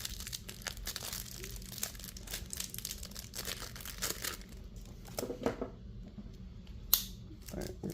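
Plastic packaging is worked open by hand, giving irregular crinkling and tearing rustles with a few sharper crackles, fairly close, amid low background noise.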